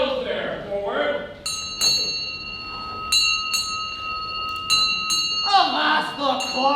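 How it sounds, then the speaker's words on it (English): A ship's bell rings in paired strikes for eight bells, clear ringing tones with sustained overtones, framed by voices speaking before and after in a dramatic reading. "Strike the bell 8 now"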